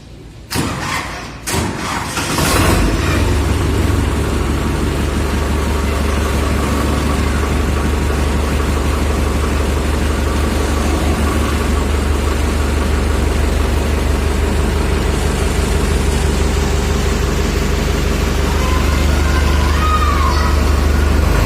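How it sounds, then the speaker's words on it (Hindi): A Farmtrac 6055 PowerMaxx tractor with a 2500 kg lift capacity starts with a few rough clunks, then its diesel engine settles into a loud, steady idle that continues without talk. "चलिए हम इसकी साउंड सुन लेते हैं कैसा है इस ट्रैक्टर का"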